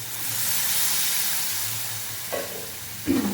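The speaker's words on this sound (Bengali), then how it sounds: "এবার আমি অল্প করে এখানে জল দিয়ে দেবো" Water poured into a hot pan of small fish frying for a chorchori, giving a steady sizzling hiss that swells with two sharper bursts near the end, close and loud with no talk.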